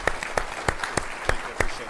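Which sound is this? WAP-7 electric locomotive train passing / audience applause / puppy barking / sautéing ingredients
audience applause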